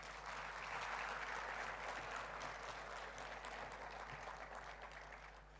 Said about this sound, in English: I don't believe the applause was enough